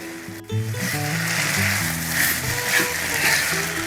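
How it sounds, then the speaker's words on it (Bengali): Potato pulao with coriander leaves and green chillies stirred in a hot pan, a steady loud sizzle with scraping and clinking of the spoon against the pan. "এবারে সব কিছুকে ভালো করে মিনিট দুয়ে নাড়াচাড়া করে নেব"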